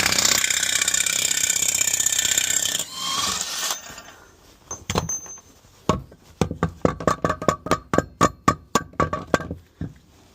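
An air impact wrench blasts the wheel hubs off a Nissan S13 drift car: a steady hissing rush first, then a rapid run of sharp, loud hammering bursts close by, with no talking.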